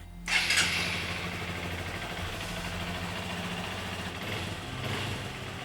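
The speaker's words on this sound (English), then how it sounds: "this stock muffler actually has a pretty good tone" A Honda CRF 150L motorcycle with its stock muffler runs nearby, giving a deep, muffled exhaust drone that swells in a short rev at the start and again near the end.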